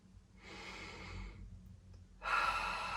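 Two deep, slow breaths taken during a self massage for shin splints, each a soft airy inhale or exhale, close and quiet, with a brief pause between them.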